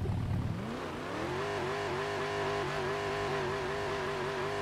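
A GT3 car with a titanium exhaust in a video game holds a loud, steady engine drone after a brief rise in revs, a rich buzzing tone that continues with no talk.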